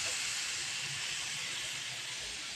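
A pressure cooker vents steam in a steady, loud, close hiss that holds unbroken from start to finish.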